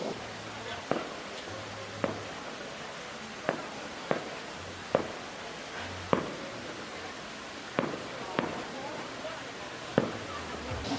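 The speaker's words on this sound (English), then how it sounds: "now there's fireworks" Distant fireworks in China pop in sharp, evenly spaced bursts, roughly one every second, each faint and brief over a steady wash of background noise.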